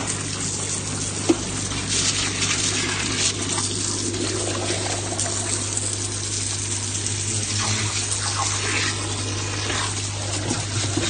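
Water from a garden hose pours and gurgles steadily through pond filter pipework during cleaning of a Nexus 320 pond filter, a continuous close rushing stream with a low steady hum underneath and no speech.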